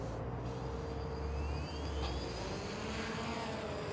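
A DJI Phantom 2 drone takes off, its rotors giving a steady close whir and hum with a faint rising tonal whine throughout.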